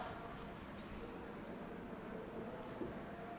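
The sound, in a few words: writing down an example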